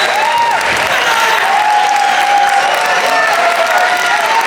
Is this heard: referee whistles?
no